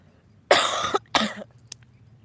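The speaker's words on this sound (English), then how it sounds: "this cough will be the end of me" Two loud, raspy coughs in quick succession, close up, followed by a quiet breathy sound.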